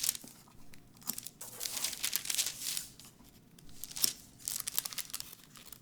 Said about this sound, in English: Snip your notches.